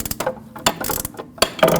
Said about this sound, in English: so I can get more swing out of my ratchet. Continue loosening this